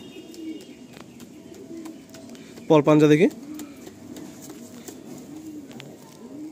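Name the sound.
Madrasi pigeon cooing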